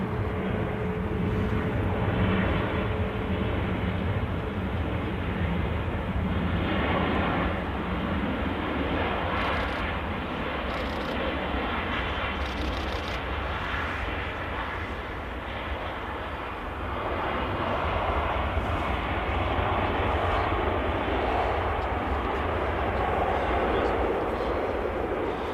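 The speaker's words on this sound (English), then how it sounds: "There we go, the biggest passenger aircraft on the planet." Jet engines of an Airbus A380 passenger aircraft at Manchester Airport roar steadily and loudly for the whole stretch, a broad continuous rumble with wind buffeting, while a voice talks over it.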